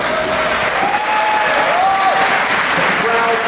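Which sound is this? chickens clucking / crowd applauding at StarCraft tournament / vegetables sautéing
crowd applauding at StarCraft tournament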